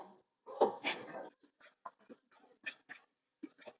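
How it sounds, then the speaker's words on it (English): A dog barks and yips at a passerby walking another dog, a short cluster of close, sharp barks followed by scattered softer woofs and whines. "Someone's walking by with a dog, so I'll finish that thought in just a minute."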